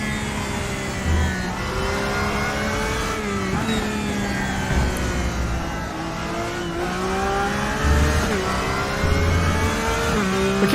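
Race car engines in the RaceRoom sim racing game roar around the Nürburgring during an endurance race, with rising revs and repeated upshifts, another car droning close by and faint tire squeal.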